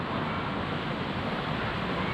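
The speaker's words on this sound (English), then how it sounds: "As you can see, it's really windy," Strong wind on the Atlantic coast of Portugal roars steadily into the microphone, a constant broadband rush with no pauses.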